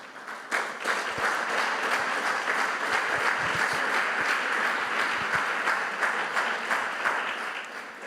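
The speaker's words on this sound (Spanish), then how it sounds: "Den un fuerte aplauso a Dios." A church congregation breaks into strong, sustained applause, dense clapping that fills the room steadily for several seconds without talk.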